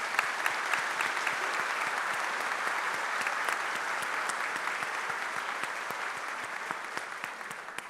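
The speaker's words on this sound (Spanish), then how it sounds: "Entonces pido un pequeño aplauso para ella." A small audience applauds a woman during a book collection presentation: steady, even clapping from many hands, fairly quiet and somewhat distant, continuing without a break for several seconds with no voices over it.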